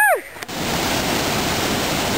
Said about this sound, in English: We found some waterfall.